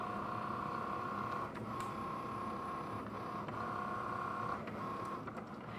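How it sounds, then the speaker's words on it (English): A Cricut cutting machine works through material during a fall embroidery hoop wreath craft, giving a steady mechanical whir with a sustained tone and small shifts as the carriage moves, heard from across the room with no talking. "And while that Cricut is cutting, guys, you can hear it over in the corner."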